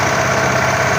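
A motor-driven air pump used for spraying date palms runs with a steady, loud mechanical drone and constant vibration, close by, without pauses or voices.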